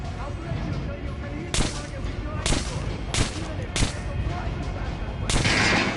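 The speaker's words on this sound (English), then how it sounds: "Try out the rest of the weapons you chose. Try shooting for the center." Gunfire from weapons in Metro Last Light, five sharp single shots spaced irregularly over a steady rumbling background, the last blast longer and heavier, with no talk.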